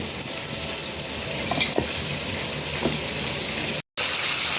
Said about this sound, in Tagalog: Kaya, piprito po ako ng tilapia.